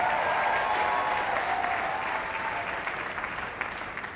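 Conference audience applauding the worship team at a pastors' gathering, a full, continuous burst of clapping that stays strong and slowly eases toward the end.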